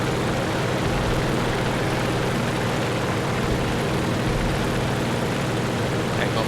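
Engine of a P-38 fighter plane flying alongside in War Thunder, a loud, continuous droning roar that stays steady throughout.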